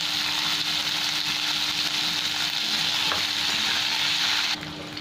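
Potatoes frying in hot oil in a Bengali home kitchen, close and steady with a dense, hissing sizzle and faint stirring, dropping suddenly quieter just before the end.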